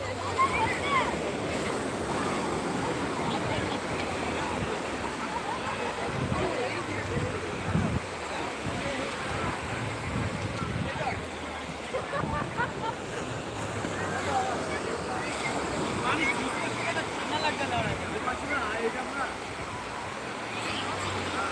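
Sea waves wash continuously onto the beach at Digha, a broad steady roar of surf mixed with wind buffeting the microphone, with no clear breaks throughout.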